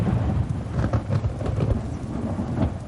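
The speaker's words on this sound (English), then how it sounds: "The thunder shook the old building." Thunder rumbles low and continuous around an old building, a heavy, steady roll with rain-like texture and no voices.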